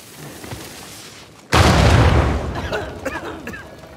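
An explosion in Uncharted 4: A Thief's End: after a quiet, murky stretch, a sudden loud blast bursts in, its heavy rumble rolling and fading with scattered crackling debris afterward.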